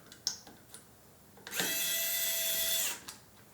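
A power screwdriver drives a screw back into a PC motherboard during an RTX 4080 and i7-13700K gaming PC build: a few small clicks, then one close, loud whirring burst of about a second and a half, then a faint tap.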